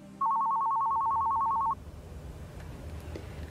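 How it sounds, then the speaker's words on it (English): A telephone gives a single ring, a loud warbling electronic trill lasting about a second and a half, then stops, leaving quiet room noise. "when the phone rings."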